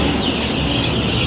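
Many chicks chirping in a brooding pen bedded with sand and rice husk, a dense, continuous chorus of high peeps close by with no pauses, with no talking.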